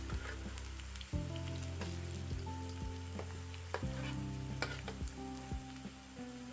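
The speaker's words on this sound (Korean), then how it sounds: "우리 엄마가 고구마전, 배추전 부쳐주고 계십니다" Sweet potato and napa cabbage pancakes fry in a pan with a soft, steady sizzle and crackle, quiet and close, under a low background hum, with no talking.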